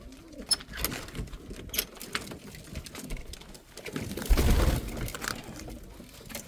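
Shamli pigeons in a rooftop loft give low cooing calls, close and steady, with soft rustling and wing movement and a louder burst of cooing near the end; no one speaks.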